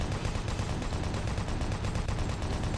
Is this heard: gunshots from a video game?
yes